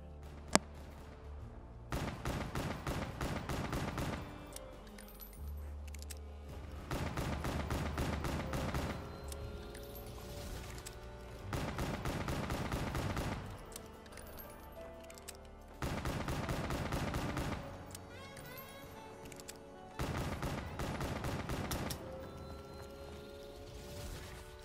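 Bursts of automatic gunfire in Black Ops 3 Zombies Shadows of Evil, several sustained rattling volleys of a few seconds each separated by short pauses, loud and close with game sounds between them.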